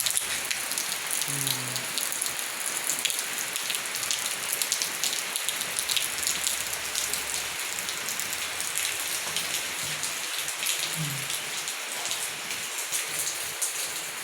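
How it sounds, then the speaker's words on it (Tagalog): Heavy rain drumming on surfaces in a steady, dense patter throughout, close and continuous, with a faint low rumble now and then and no talk. "malakas yung ulan"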